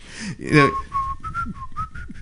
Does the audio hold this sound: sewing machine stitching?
no